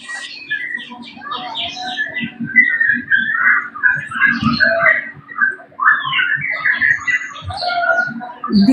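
Birds chirp and whistle continuously at close range, busy overlapping calls running throughout, with a faint low hum underneath and no clear talk.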